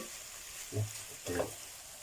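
Bamboo shoots and chicken stir-fried without oil in a pan, two soft scraping stirs over a low, faint background hiss, close by.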